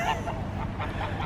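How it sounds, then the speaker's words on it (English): Geese honk repeatedly at Whitehaven Marina in a steady, noisy outdoor scene, with no voices over them. "Don't get too close to the geese."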